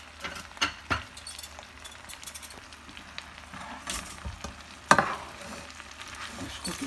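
Leeks and a bay leaf fry in hot oil in a pot, a soft continuous sizzle broken by a few sharp clinks and scrapes of stirring, with no talk over it.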